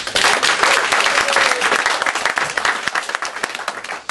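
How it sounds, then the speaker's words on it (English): A stage audience at a live mind-reading show bursts into loud, sustained applause, dense clapping filling the whole stretch without talk. "Give him a round of applause."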